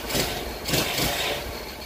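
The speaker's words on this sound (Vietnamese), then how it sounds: "nó gắn cái bồ vô để nghe tiếng êm cái máy" A 70cc Cub-type motorcycle engine, a CD90-style unit, idles smoothly and steadily nearby, a soft continuous hum without revving.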